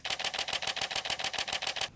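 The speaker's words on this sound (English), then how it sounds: "the Canon 80D can shoot at around about 7 frames per second," Canon 80D DSLR shutter firing a continuous burst at about 7 frames per second, a steady run of crisp mechanical clicks with a slower, regular rhythm, close up and with no other sound.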